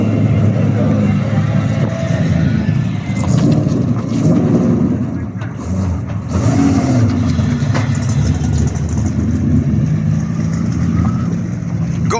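Modified cars roll out along the paddock at Cadwell Park, including ST Owners Club cars and drift cars, a steady loud engine rumble with rising revs throughout, voices talking over it.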